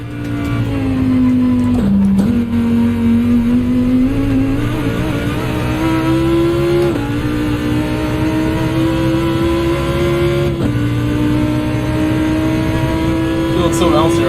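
A Lamborghini race car engine in Gran Turismo drones steadily at high revs for the whole stretch, with brief dips around gear shifts and a slowly rising pitch, loud and continuous.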